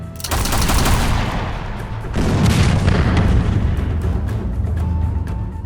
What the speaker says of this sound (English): the Navy was promptly ordered to bombard them